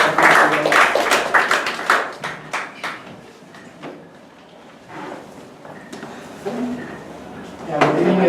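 Applause from the audience at a Toastmasters meeting, with fairly close, uneven claps in sharp bursts that swell, fade in the middle and build again toward the end, with some voices mixed in.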